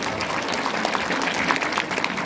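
Dense, steady applause from an audience at a Korean political talk fills the whole stretch at an even level, with no speech over it.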